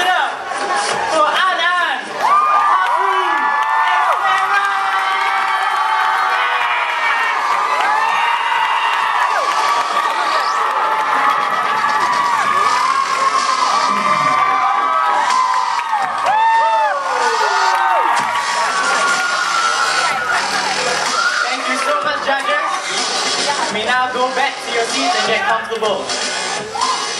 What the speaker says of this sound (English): make some noise, scream your lungs out, and show them some really warm love